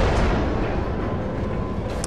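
Enemy naval gunfire lands around a Mahan destroyer in World of Warships, a dense, continuous rumble of booming shell impacts and blasts, loud and close, with no speech.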